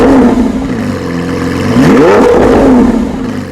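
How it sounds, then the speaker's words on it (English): Lamborghini Aventador SVJ exhaust revs up hard and close, a loud rising and falling engine blare that swells to a peak midway and settles back with crackling overrun. "this has to be one of the very coolest exhausts in the entire car industry. And of course, it sounds pretty good too."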